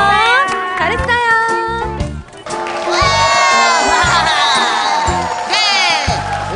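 Children on a TV kindergarten game show cheer and shout loudly together after a game, their excited voices rising and falling as a close, noisy group.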